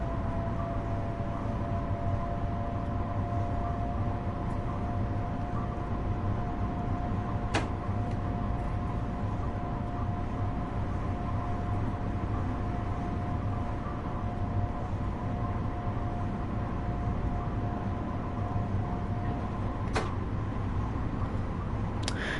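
An M7A electric multiple unit running on the New York Harlem Line in Train Sim World 3 gives a steady, loud rolling rumble with a thin sustained whine, broken by a couple of sharp clicks.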